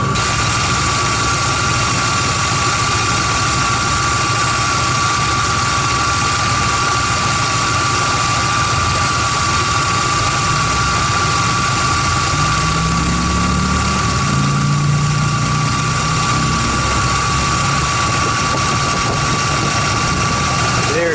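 A Ford F150 engine runs with its fan clutch engaged, producing a loud, steady roar of rushing air and a constant hum, with a low tone swelling briefly near the end.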